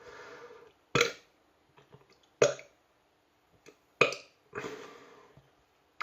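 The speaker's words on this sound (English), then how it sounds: "Multiple burps." A drinker burps several times after sipping St Bernardus Abt 12 beer, close and loud, with four or five separate belches spaced by silence, some sharp and short, one longer and drawn out.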